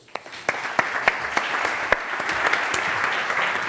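An audience of a few hundred at a tech talk on new materials applauds, a steady, even wash of clapping with a few sharper individual claps standing out.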